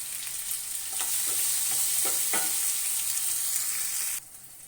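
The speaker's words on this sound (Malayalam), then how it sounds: "തേങ്ങ വറുക്കാം. അപ്പോൾ തേങ്ങ അങ്ങനെ മൊരിയുന്നുണ്ട്." Coconut roasts in a hot pan with steady loud sizzling and several scraping stirs, then the sizzle drops abruptly near the end.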